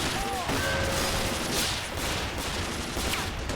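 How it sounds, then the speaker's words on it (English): Dense gunfire crackles as a tank trades fire with a company of grey plastic-soldier infantry in an Army Men video game battle, a continuous loud fusillade with overlapping shots and faint speech-like sounds mixed in. "It's exchanging fire with a lot of infantry."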